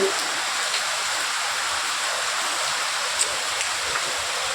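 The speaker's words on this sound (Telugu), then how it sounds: "ఫుల్గా కొట్టుకుపోయినట్టు వస్తుంది వర్షం" Heavy rain pours down steadily in Nizamabad, a dense, even hiss close by with a few faint droplet taps standing out, no voices.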